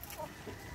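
Chickens clucking as they jostle over feed, a few short close clucks in a brief, quiet moment.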